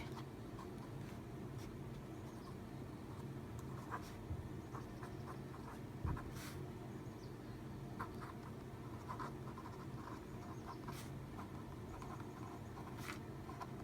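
A Staedtler pigment liner with a 0.5 nib writing on notebook paper, quiet close scratchy strokes in short irregular bursts over faint background hum, with no talk.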